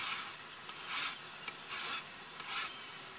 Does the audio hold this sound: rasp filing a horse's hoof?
yes